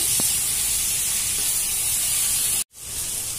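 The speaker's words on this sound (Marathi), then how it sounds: "आता याला स्लो गॅसवर चांगलं भाजून घेऊ" A prawn and rice mixture with turmeric roasts in a pan over a low gas flame, giving a steady loud hiss and sizzle that briefly cuts out, then resumes.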